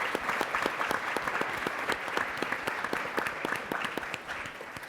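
A symposium audience gives a round of applause for STEM PIs and staff, a full, lively clapping of many hands holding steady for several seconds before easing slightly at the end.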